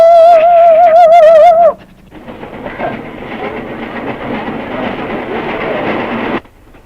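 A Southern Railway train sounds a loud whistle blast, then rolls on with a steady rumbling, rattling clatter of wheels and carriages that stays loud and close until it suddenly cuts off.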